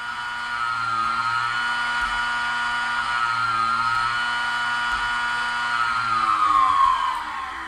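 A computer hard drive with worn or broken bearings struggling to reach full speed, giving a steady droning whine with layered tones and a slowly wavering pitch that dips toward the end, continuous and close.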